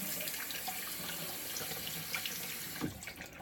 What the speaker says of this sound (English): run it under some hot water here, get it wet.